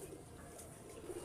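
Pigeons cooing in a loft, soft low coos at a distance under a faint background hiss, with a low voice murmuring nearby.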